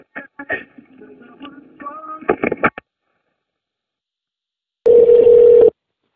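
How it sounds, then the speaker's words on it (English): A single steady telephone tone on a phone call, lasting under a second near the end, after a stretch of muffled talk over the line and a silent gap. "Let's hang up the phone."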